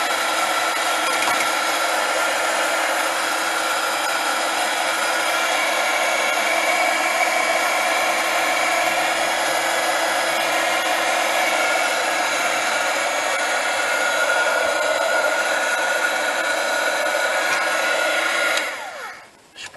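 A quiet dryer blowing air over glue on a craft project, a steady, even whoosh that holds unchanged for about nineteen seconds and then cuts off near the end, with no talking.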